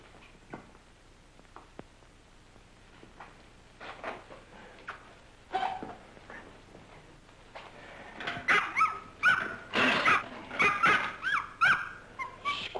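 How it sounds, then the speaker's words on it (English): A puppy barks and yips, starting with scattered faint whimpers and building into a loud, rapid run of close, repeated barks. "Stop barking, will you?"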